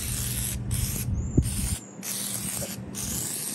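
WD-40 sprayed onto a 1934 U.S. Tool Company Commander drill: several loud, close aerosol bursts of broadband hiss, separated by short gaps, with a faint low hum beneath the first half.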